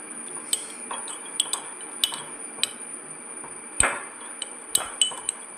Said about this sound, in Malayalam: ഒരു സ്പൂൺ വെച്ച് നന്നായിട്ട് മിക്സ് ചെയ്യേ മിക്സ് ചെയ്യുക നന്നായിട്ട് മിക്സ് ചെയ്ത് കേട്ടോ